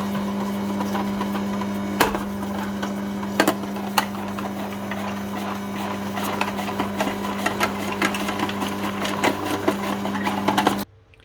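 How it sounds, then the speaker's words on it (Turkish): A Bosch electric grater shreds onion on top of grated zucchini and red peppers, its motor humming steadily and close with a rapid mechanical chatter and a few louder knocks, running until it stops abruptly at the end. "üzerine soğanı da rendeliyorum"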